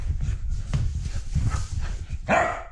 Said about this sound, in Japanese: ダメだ、吠えたら。 吠えたらダメよ。